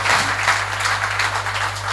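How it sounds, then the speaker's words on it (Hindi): An audience at a Hindi poetry recital during a Jain community event claps steadily for a poet for about two seconds, over a low constant hum. "एक बार चक्रेश भैया के लिए कविता ताली बजा दीजिए"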